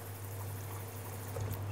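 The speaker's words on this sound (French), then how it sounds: "C'est bien mieux de les rincer dans un bol" Water is poured into a bowl while salted sardine fillets are rinsed, a soft, steady stream with a low hum underneath and a slight splash swelling near the end.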